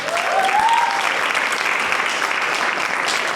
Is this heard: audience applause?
yes